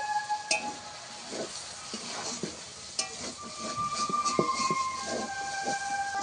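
A spatula stirs a taro stolon (kochur loti) dish in a pan once the water has dried off, with soft repeated scraping strokes, light clinks against the metal and a faint sizzle underneath, close and steady.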